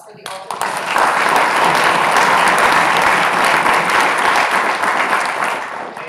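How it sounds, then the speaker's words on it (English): Sustained audience applause at a business model contest, a dense wash of clapping that starts abruptly and stays loud and steady for about six seconds, with no talk over it. "Round of applause for the Alta Resources Center."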